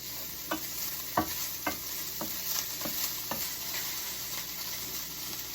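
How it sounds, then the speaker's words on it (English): Steady sizzling of meat frying in a hot pan, broken by a few sharp scraping clicks from stirring. "It's hot enough to sizzle."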